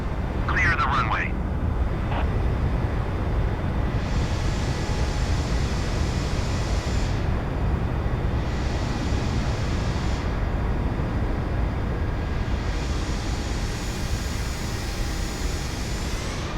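An Air France Airbus A320 landing at Gibraltar in a flight simulation, a steady broad engine roar with surging jet whine, and a radio voice speaks briefly near the start.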